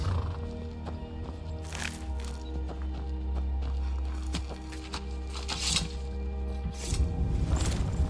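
Horse sounds in the video game Skyrim, steady clip-clopping hoof falls over a low droning game ambience, with a few sharper whinny-like bursts and clattering mechanical noises scattered throughout.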